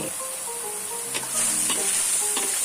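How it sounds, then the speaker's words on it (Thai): Beef with eggplant sizzles in a pan for a Thai basil stir-fry and is tossed through its sauce, with a continuous close frying hiss and a few bright spatula scrapes. "ลุกคล้าส่วนผสมให้เข้ากันเลยนะครับผม"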